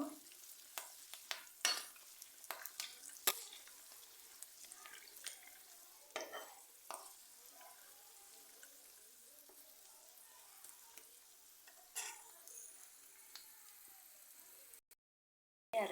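A peanut chutney tempering fries gently over a low flame, giving a soft, steady sizzle with scattered pops and crackles and occasional scraping stir strokes. It sits close and fairly quiet, with no one talking.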